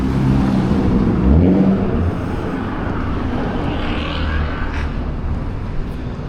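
A car engine revs loudly on a city street in midtown Toronto, a broad steady roar that swells near the start and then holds under constant traffic noise.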